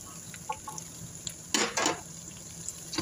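Green beans stir-fried with golden garlic and onion in a pan: a soft sizzle under scattered light clinks and scraping stirs, with one louder burst of frying near the middle.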